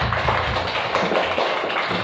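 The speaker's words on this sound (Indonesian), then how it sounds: "Kita berikan tepuk tangan untuk kelompok 3" Students in a classroom applaud group 3, a brisk, steady flutter of many hands clapping at close range for about two seconds.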